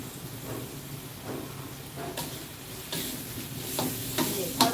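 Food is stir-fried in a hot pan, with a continuous sizzle and repeated scraping clatters of the spatula, busy and close.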